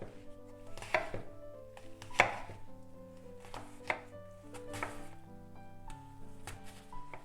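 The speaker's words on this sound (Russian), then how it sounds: "Дальше я нарезаю их небольшими кусочками." A knife chops through apple on a board in a handful of sharp, irregular cuts, close and clear, with no one talking.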